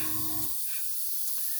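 Short airbrush-style hiss of paint sprayed over masks on a model aircraft, a soft steady burst of air that cuts off partway, leaving faint background hiss.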